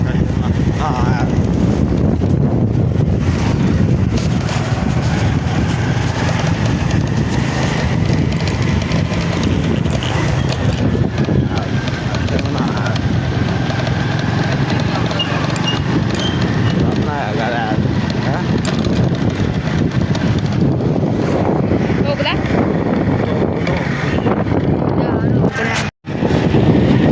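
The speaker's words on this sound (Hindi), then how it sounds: "देखो तो हम मोटरसाइकिल चला रहे हैं" Steady roaring wind buffets the microphone while riding a motorcycle on an open road, a dense continuous rumble lasting the whole stretch with a brief dropout near the end.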